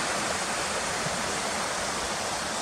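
Cotter Force waterfall and the stream running above it below a wooden footbridge make a steady, dense hiss of falling water, constant and fairly close, with no voices.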